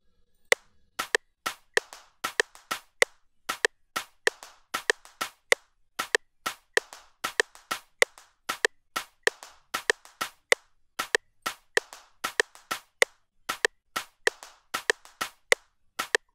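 Two layered percussion sounds in an electronic beat, played on notes C5 and D5 with varied velocity, form a steady, busy loop of crisp, snappy hits with softer ghost strikes between them, close and continuous for the whole stretch.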